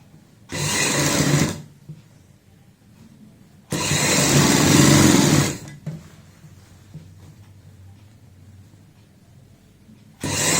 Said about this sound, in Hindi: यहाँ पे ऊपर से सिलाई लगाएंगे